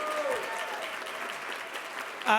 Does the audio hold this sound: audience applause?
yes